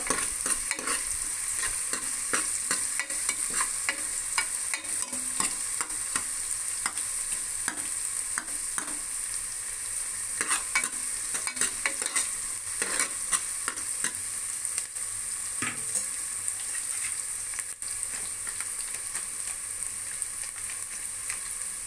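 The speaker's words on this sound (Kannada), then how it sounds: "ಆನಿಯನ್ ಎಲ್ಲ ಬ್ರೌನ್ ಕಲರ್ ಬರೋ ತನಕ ಫ್ರೈ ಮಾಡ್ಕೊಳ್ಳೋಣ" Onions frying until brown in a pot for Mandya-style green mutton sambar, giving a loud, continuous close-up sizzle with scattered stirring scrapes and clicks throughout, with no voices.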